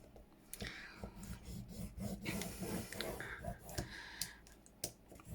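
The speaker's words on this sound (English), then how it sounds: "I'm going to get the scoreboard and I'm going to score it at 1 inch." A bone folder scores book-page paper on a scoring board at one-inch spacing, making close, rhythmic rubbing and scraping strokes with soft clicks, and a voice briefly murmurs between them.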